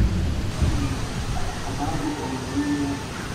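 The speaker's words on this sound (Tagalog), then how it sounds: "Malakas na naman ang hangin. Mukhang malakas na ulan na naman to." Steady heavy rain and gusting wind roar as a dense, continuous wash of noise with low rumbling, without a break throughout.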